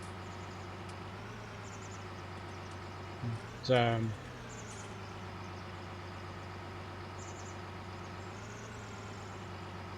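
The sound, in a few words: tractor engine running, Farming Simulator 19 video game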